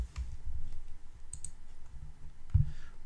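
Someone types on a Windows 10 computer, with scattered soft keyboard clicks and a few sharper mouse clicks, close and quiet with no talking.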